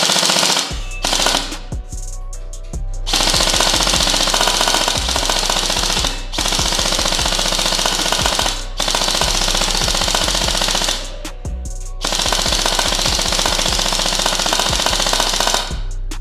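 An MK18 gel blaster made by Sijun, rated around 85 m/s, fires full auto in long, loud, continuous rattling bursts separated by short pauses, close to the listener with no talking.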